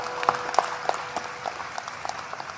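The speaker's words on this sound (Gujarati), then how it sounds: "એમને એક વખત જોરદાર તાળીઓના નાદ સાથે વધાવો" An audience at a Gujarati dayro comedy show claps in scattered, crisp hand claps heard at moderate distance over a low background murmur, with no steady roar of applause.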